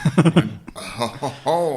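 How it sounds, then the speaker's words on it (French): A few sharp coughs in quick succession, close and loud, followed by voiced sounds that trail into a short laugh or murmur. "Je tousse."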